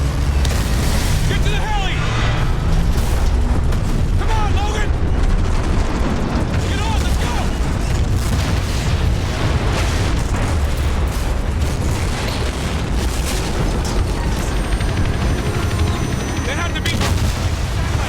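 A tower collapsing in the video game Call of Duty: Ghosts, a sustained roar of heavy booms, crashing debris and gunfire-like bursts, loud and dense throughout, with voices shouting over the chaos.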